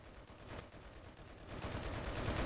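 Sustained automatic fire from an M1919A6 machine gun in the Enlisted game, a continuous rattling stream of shots that grows steadily louder and denser toward the end, with no talk.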